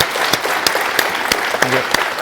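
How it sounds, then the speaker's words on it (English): Steady audience applause at a university EU debate, thanking a guest speaker, with dense clapping throughout and a brief voice breaking through near the end. "let's give a warm applause"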